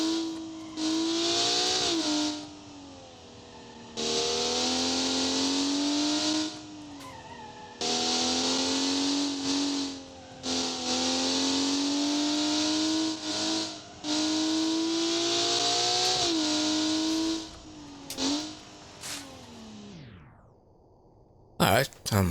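A car in the BeamNG driving game revs hard through repeated gear runs, with long rising engine howls and tyre squeal, cutting out briefly between bursts while someone talks over it.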